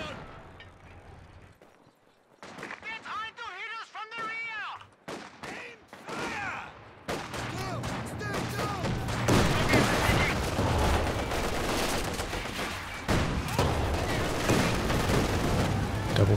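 Tank cannon and gunfire in Company of Heroes 2, a 1v1 match with a T-70 tank firing: sparse shots at first, then dense overlapping bursts of gunfire and booms that grow louder and continuous, with a commentator talking over them.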